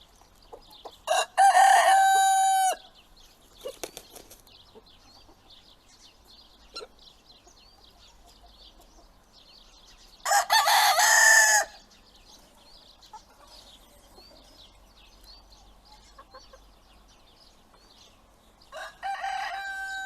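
A rooster crows loudly on a chicken farm three times, in long bursts spaced several seconds apart, while hens cluck softly and intermittently in between.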